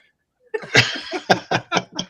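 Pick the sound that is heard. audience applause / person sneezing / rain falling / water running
person sneezing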